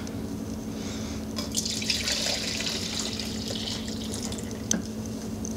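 A gel mixture for aquarium plant tissue culture is poured back into its container, heard as a close liquid splash and trickle with a few drips and a small clink near the end.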